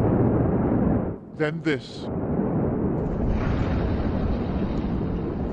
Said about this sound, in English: The first blast sent a plume of smoke into the air and set off multiple explosions.